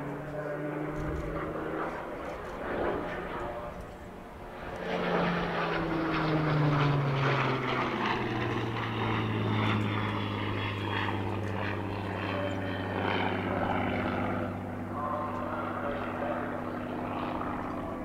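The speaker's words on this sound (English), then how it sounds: "A victory roll concludes our look back at this performance." Supermarine Spitfire BM597 propeller fighter flying a victory roll over the Southport airshow, a loud, close engine drone that rises and falls in pitch as it passes and rolls, sustained throughout.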